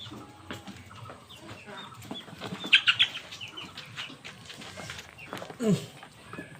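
Fayoumi chickens gathered at water cluck softly while wings flap in short bursts, the sounds close by and irregular over a low background.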